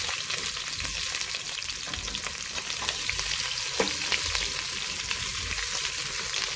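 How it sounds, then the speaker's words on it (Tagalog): Ginger and onion sauté in a pot with oil for salmon and shrimp sinigang sa miso, a continuous close, loud sizzle with occasional stirring scrapes and no talking. "Umpisahan natin sa pagigisa ng luya. Tapos lagay ko na rin ang sibuyas."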